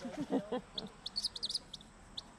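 A captive bird of prey at a park calls in a run of short, sharp, high chirps, fairly close, following some brief human talk at the start.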